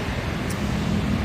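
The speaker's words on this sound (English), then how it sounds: "There's a lot of traffic." Steady street traffic noise, a continuous low roadway rumble with a faint whoosh of a passing vehicle, heard outdoors with no talk.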